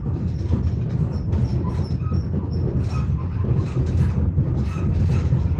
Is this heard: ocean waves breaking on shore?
no